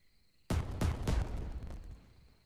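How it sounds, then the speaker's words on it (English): Fireworks launched in the VR game Vistascapes VR, three sharp bursts in quick succession followed by a crackling, fading tail, loud and close with no talking. "the whole point of this one is to shoot fireworks"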